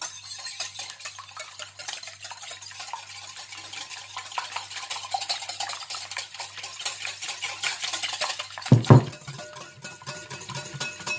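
Stirring and whisking an egg into very cold water for zucchini-flower fritter batter, with a steady soft scraping rhythm in a bowl, close and quiet, and a brief louder clink near the end.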